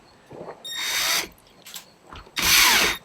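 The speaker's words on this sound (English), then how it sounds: "Go ahead and drill those." Power drill boring holes for the rear bolts while fitting a Torqeedo Ultralight motor to a Riot Mako 14 kayak: a short burst, then a longer whining run, then another sustained loud burst, close by with no talk.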